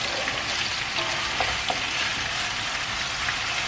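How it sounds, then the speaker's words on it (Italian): Peppers for peperonata browning in a hot pan over the flame, a steady dense sizzle and crackle of frying with small pops and occasional stirring, close and continuous with no talk. "Facciamo rosolare bene ancora, mettiamo un attimino la fiamma"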